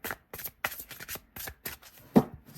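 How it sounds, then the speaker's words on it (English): A deck of oracle cards is shuffled by hand in a quiet room, with a series of quick riffling bursts in an uneven rhythm, close and fairly loud. "So let's see whether or not, because there's not as many cards in this, if I can shuffle it."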